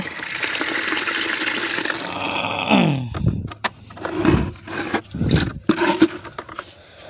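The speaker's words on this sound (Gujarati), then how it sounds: "પાણી ભરાય છે." Water gushes from an outdoor tap into a container, a loud rushing flow that shifts in pitch as the vessel fills, then breaks into uneven splashing pulses.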